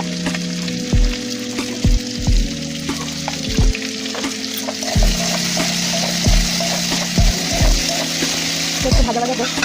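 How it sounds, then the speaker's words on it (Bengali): Potatoes, broad beans and eggplant fry in hot oil in a pan, a loud steady sizzle broken by repeated scraping knocks of a spatula stirring at uneven intervals, close up. "একটু ভাজা ভাজা হোক।"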